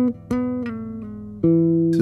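Tapped bass guitar notes of a melody ringing over held chords, sustained tones with a few fresh attacks and pitch changes across a couple of seconds, close and fairly loud with no speech.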